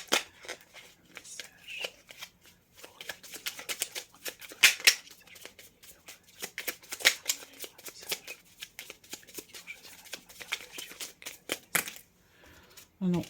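Oracle cards for a tarot-style reading are shuffled by hand in a long, steady run of close, crisp riffling and flicking, with a voice now and then in the background.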